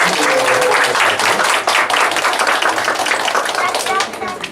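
A church congregation bursts into loud, sustained applause, with dense overlapping claps and a few voices mixed in that hold steady for several seconds before easing off.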